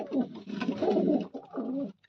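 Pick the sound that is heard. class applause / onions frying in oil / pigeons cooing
pigeons cooing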